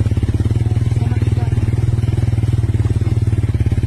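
The motorcycle engine of a tricycle on a rural farm road runs steadily and close by, with a fast, even throbbing putter and rattling clatter throughout.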